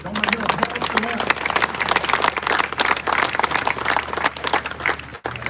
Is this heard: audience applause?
yes